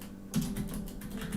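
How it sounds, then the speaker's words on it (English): Computer keyboard typing during a relaxed evening livestream, a run of quick, fairly close keystrokes and clacks in an irregular rhythm with no talk. "I know I keep typing Ju Young Kim"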